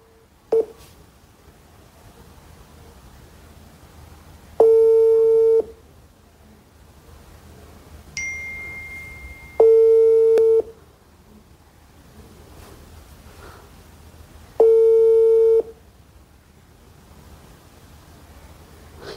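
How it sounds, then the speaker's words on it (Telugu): A phone call to a number: a short dial tone, then keypad dialing tones, then several separate sustained tone pulses spaced a few seconds apart over a hissing line, with no talk. "ఒకసారి అదే నెంబర్కి ఒకసారి లైవ్ కాల్ చేద్దాం"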